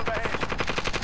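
Rapid automatic gunfire from Call of Duty Warzone rattles in a loud, even burst of about a dozen shots over a second, close and dominant, with no talking.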